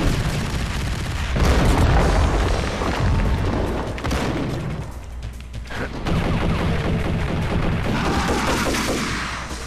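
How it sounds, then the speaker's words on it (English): Dense, loud gunfire and booming explosions from the video game Max Payne, with rapid bursts and heavy blasts overlapping continuously throughout. "Who's shooting me with that?"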